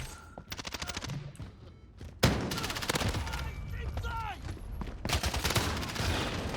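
Gunfire in a Call of Duty Modern Warfare match on a small map with shotguns in use: loud, close bursts of rapid shots and sharp single blasts, with a voice talking underneath.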